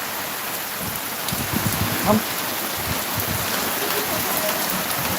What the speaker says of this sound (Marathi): भरभराटीचा पाऊस चालू झालेला आहे गावाकडे आमच्या